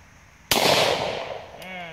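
A Bond Arms Ranger handgun chambered in .45 Colt fires a 240-grain lead bullet: one sudden, loud close-range bang with a long, fading rumble afterward.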